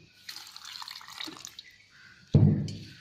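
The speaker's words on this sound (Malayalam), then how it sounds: "വെള്ളം ഒഴിക്കുക." Water is poured into a papaya juice mix of milk, sugar and three cardamom pods. Soft clinks and rustles come first, then a short, close splash of pouring liquid near the end.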